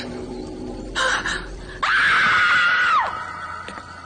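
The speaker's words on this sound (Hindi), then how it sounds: "आप चीखे क्यों?" A woman in a Hindi horror drama screams in fright, first a short higher cry, then a long sustained shrill scream lasting over a second before cutting off, loud and close, with a brief gasp-like sound earlier.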